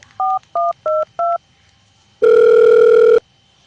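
Four short, evenly spaced keypad tones beep in quick succession, then a pause and one longer, loud steady tone, all without talk.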